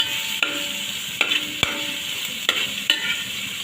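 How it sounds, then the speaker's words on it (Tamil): Small onions sautéed with salt in a pan for a village-style river fish curry, a low steady sizzle punctuated by five or six sharp clinks of a spatula against the pan. "அடுத்து தேவையான அளவு கொஞ்சம் உப்பும் போட்டு வதக்கணும்"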